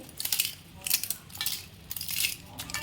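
Fried papad crisps snapped into pieces by hand over a mixed chaat, several sharp dry crunches in short bursts, close and fairly quiet, with no talking.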